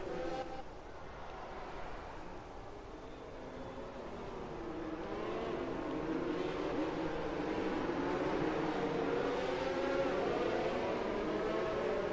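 Cars in a Speed Force racing Premier series event in Japan as the safety car pulls in, a rising, sustained whine of engines gathering and swelling in volume, fairly distant and blended, with no talk.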